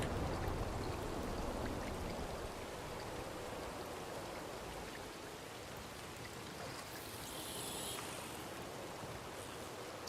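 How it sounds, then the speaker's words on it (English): Steady rain falls in the video game Red Dead Redemption 2, played on the WildRP server, a continuous soft hiss of drops that stays even and unbroken throughout, with no talking. "I think the rain's making them kind of go a little haywire"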